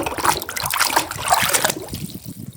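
A toy concrete mixer truck gets washed in water, with close trickling, dribbling and splashing for about two seconds before the water noise stops and a quieter tail follows.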